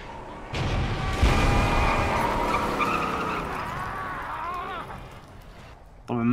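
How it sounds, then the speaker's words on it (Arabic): Engines roar and tires skid in the Mad Max video game, a loud continuous car rumble with squealing slides building then easing, ending in a sharp burst; game voices may sit faintly beneath. "أسمع صوت مواتر."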